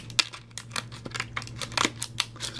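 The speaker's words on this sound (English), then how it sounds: "I have my baby handy-dandy scissors to" Small scissors snip open a Pokémon trading card blister pack, giving a run of sharp, close clicks and plastic crinkles at an uneven rhythm.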